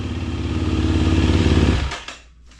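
A KTM dirt bike engine idles loudly and close with a steady lumpy throb, then cuts off abruptly near the end, leaving a few clattering ticks as it dies away.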